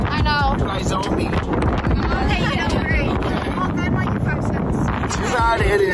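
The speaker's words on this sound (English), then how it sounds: "It's windy." Strong wind buffets the microphone in a constant, loud roar on a cold, windy May day outdoors, with no clear voices.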